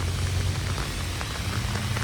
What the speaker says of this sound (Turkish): inanılmaz yağıyor ya